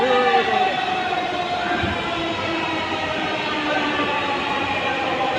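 A metro rail train pulls into a crowded station with a steady, loud rumble and a faint high whine above it, and voices murmur faintly in the background.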